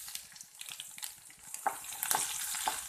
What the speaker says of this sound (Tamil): அடுத்ததாக தட்டி வச்சிருக்கிற பூண்டு சேர்த்துக்கிறேன்.